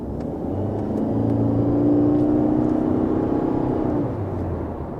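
A Toyota Corolla Cross hybrid of the 10 series accelerates from 20 km/h, heard from inside the cabin as a smooth, low engine and motor drone that swells steadily, peaks midway and then eases slightly.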